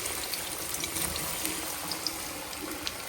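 Bonda balls frying in hot oil in a home kitchen, a faint, steady hiss and sizzle with small pops and crackles scattered through it and no voices.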